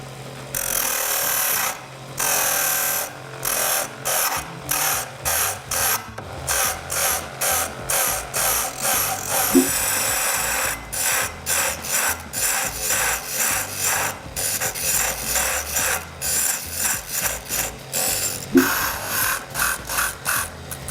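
Hand tools rasp and file against a wooden rocket model being shaped, repeated rubbing strokes in bursts with short pauses between them, close and steady.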